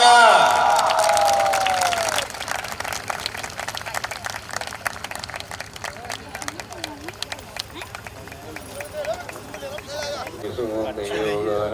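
Crowd applause at a school foundation-stone and land-worship ceremony, a dense wash of clapping at the start that thins into scattered claps under chanting voices.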